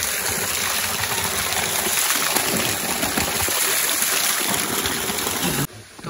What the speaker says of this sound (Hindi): यहाँ से भी पानी आ रहा है।